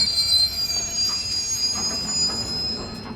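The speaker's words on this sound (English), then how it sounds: "Eventually, the train rumbled into Mishima Cape Station." Train rumbling into a station in a visual novel game: a loud, steady low rumble of rolling rail wheels under sustained high-pitched squealing from brakes or wheels, continuous throughout with no voices.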